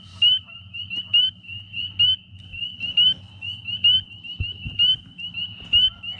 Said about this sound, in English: See that peeper?